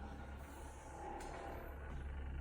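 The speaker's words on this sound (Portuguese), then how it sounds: "Barulho do motor." A Samsung RH8K refrigerator with a faulty motor gives a quiet, continuous low hum with a steady tonal drone, faint and unchanging in a still room.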